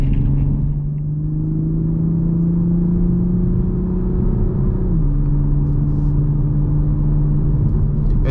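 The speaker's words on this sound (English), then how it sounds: "you get the amazing exhaust" Engine and exhaust of a 2021 Toyota Supra A91 cruising on the Pacific Coast Highway, a loud steady droning rumble that shifts down in pitch partway through, with no voices.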